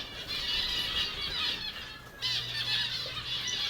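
Bird offered for sale at an outdoor market gives continuous shrill squeals and squawks, fairly loud and close, with a low hum in the background.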